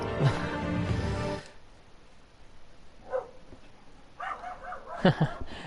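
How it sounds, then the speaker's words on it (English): Dogs bark in the background: one barks loudly and repeatedly up close at first, then quieter yips and barks follow intermittently after a lull. "you can probably hear the dogs barking in the background"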